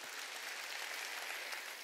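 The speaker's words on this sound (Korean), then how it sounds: "깨달은 사람만 박수요." A church congregation at a Wednesday worship service bursts into steady, even applause, a dense wash of many hands clapping at moderate distance with no talk over it.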